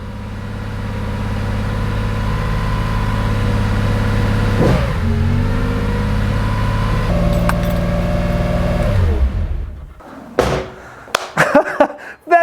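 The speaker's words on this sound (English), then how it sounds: "when I hit my foot on the throttle, it jumps to 2000 RPM" A Porsche 911 2.8 RSR engine idles loudly up close, blips up in pitch twice as the throttle is pressed, holds a raised drone, then cuts off, followed by a few clunks and knocks.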